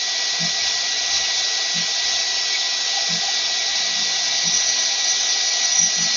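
A hair dryer blows steadily and loudly throughout, a constant airy whir, with a few soft low thumps underneath.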